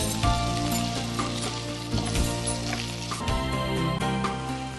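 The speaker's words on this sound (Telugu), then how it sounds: "జస్ట్ లైట్గా ఫ్రై చేసేస్తే సరిపోతుంది." Boiled mixed vegetables fry lightly in a pan for a mixed vegetable pickle, a steady close crackle and hiss with scattered pops, layered over background music.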